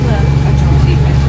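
Steady low drone of a bus engine during a public bus ride toward Swansea, a continuous heavy hum filling the cabin with no other clear sounds.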